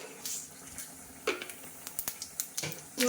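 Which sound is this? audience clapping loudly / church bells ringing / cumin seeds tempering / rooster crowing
cumin seeds tempering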